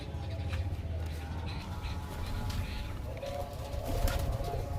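Loft pigeons, some males in moult, murmur with low, steady cooing amid faint wing shuffles and rustling, close and continuous while people talk nearby.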